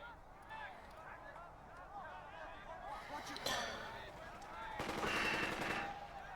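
Gunfire in Burden of Command crackles at low level, with a sharp burst midway and a denser rattling volley near the end, over a muffled bed of background noise.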